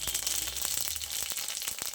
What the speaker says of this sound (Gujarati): લીલા મરચાં ઉમેરીશું.